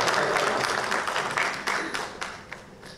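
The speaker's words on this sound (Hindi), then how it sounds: "इनके लिए भी जोरदार तालियां बजा दीजिए" Audience applause at a press conference, a full burst of clapping that gradually thins out and fades into scattered claps.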